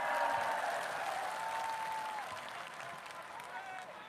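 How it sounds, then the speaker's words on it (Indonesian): A large crowd at the PSI party's 9th anniversary rally claps in a loud, steady wave that slowly fades, with a voice carrying over the applause. "tepuk tangan dulu buat semuanya"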